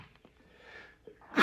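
A single sneeze bursts out sharply at the very end, following a stretch of quiet room sound and a faint breath.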